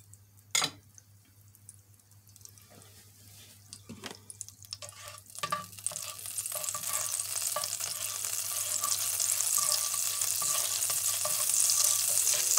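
Butter melting into olive oil in a pan for pork chops starts sizzling after a few clinks and thuds, the frying hiss building steadily and growing louder toward the end.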